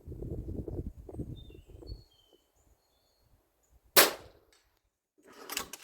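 An FX DRS Tactical .22 airgun on a 100 m range fires one sharp, close crack with a brief ringing tail, following earlier low rumbling noise and another burst of noise at the end.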